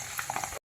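Ginger, garlic and chilli fry in a pan for mango pickle, with a soft steady sizzle and a few light scrapes of stirring, brief and close.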